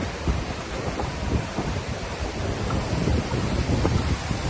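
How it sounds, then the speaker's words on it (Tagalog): Strong monsoon wind on a beach in Boracay buffets the microphone in a steady roar with gusty low thumps, no voices present. "So medyo mahangin."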